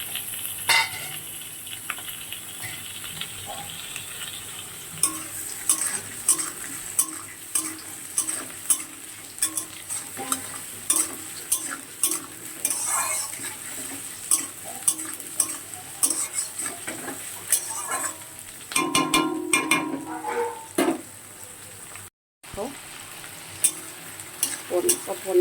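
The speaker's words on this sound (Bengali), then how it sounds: "আলুটা আমার হালকা ভাজা হয়ে গিয়েছে, এবার এটা আমি একটা টমেটো কুচিয়ে আর পেঁয়াজ কুচিয়ে দিয়ে দিলাম।" Potatoes already lightly fried sizzle in a kadai as chopped tomato and onion go in. A spoon stirs and scrapes against the pan in repeated sharp clinks over a continuous, fairly close frying hiss.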